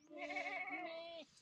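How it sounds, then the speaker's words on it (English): A single drawn-out goat bleat on a farmstead, one clear wavering call lasting about a second, fairly quiet and heard alone without talk. "Oh, look at this goat."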